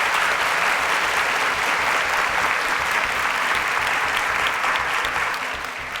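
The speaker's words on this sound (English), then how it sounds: "A round of applause for David." Studio audience of a quiz show applauding for a contestant, a dense sustained wash of clapping from a large crowd, loud and even before easing off at the end.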